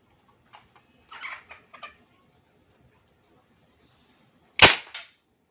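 A CO2 airgun and PVC toy gun are test-fired; one loud, sharp crack rings out near the end, preceded by a few faint, scattered chirps and clicks in quiet surroundings.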